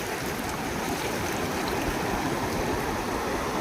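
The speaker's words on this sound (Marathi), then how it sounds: "आयुष पाणी आलं" Water rushes into a muddy crab creek at night, a steady close wash of flowing, gurgling water with no voices over it.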